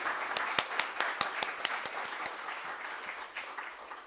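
A congregation at a Sunday church service claps, a dense burst of applause with some sharp individual claps, gradually thinning out.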